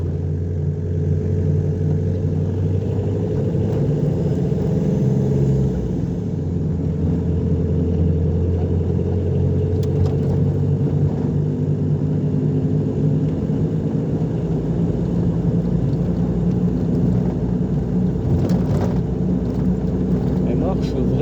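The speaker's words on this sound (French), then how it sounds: "mais elle marche très bien cette voiture" A Renault 11 TDE on the move gives a steady, low engine rumble with road noise throughout, while someone talks over it.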